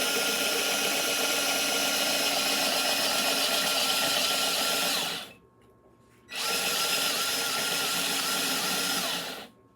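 A cordless drill with a nearly drained battery whirs steadily at close range, stops briefly for about a second, then runs again at full speed before cutting off.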